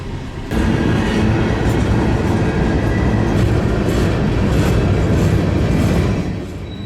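A long, slow manifest freight train with centre-beam cars passes nearby in the Duluth area of Minnesota's Iron Range, loud steady rumbling with regular clickety-clack from the wheels, fading slightly at the end.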